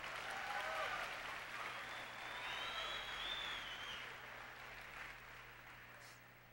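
Steady applause from a church audience during a sermon fills the whole stretch, a dense wash of clapping with no voices standing out.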